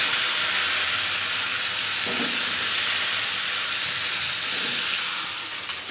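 Fish fries in a pan with a loud, constant hiss and sizzle, heard close up and steady throughout with a couple of soft clinks, no voices.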